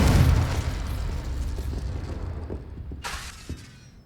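A Confringo blasting spell explodes in Hogwarts Legacy, a loud booming burst with shattering debris that rumbles and decays over several seconds, followed by a brief hissy crackle.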